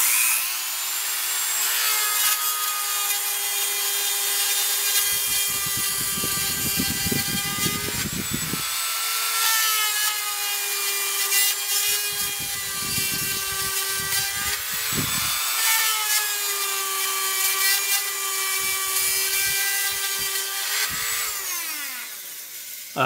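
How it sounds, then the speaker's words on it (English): A rotary tool fitted with a small diamond grout-removal bit grinds along the grooves between tiles, a steady high-pitched whine with a rising and falling harmonic tone and bursts of rough scraping in repeated passes. No one speaks. "I use it with a little diamond, it's like a grout removal bit on the end"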